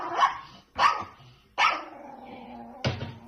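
A dog inside a small dog house gives four sharp, loud barks, evenly spaced about a second apart, each with a short ringing tail, close to the listener.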